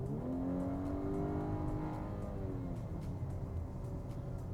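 A 2024 Volkswagen Atlas Cross Sport with the 2.0-liter turbo, 269 horsepower, accelerates in sport mode, its engine note climbing smoothly through the revs as a muffled in-cabin drone over steady road noise.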